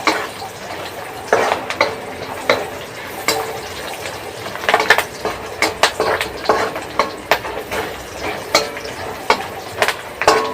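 Turmeric-tinged tempering for red lentil (masoor) dal frying in a pan, a steady sizzle broken by repeated sharp scrapes and clinks of a stirring spoon against the metal, close and clear with no talk.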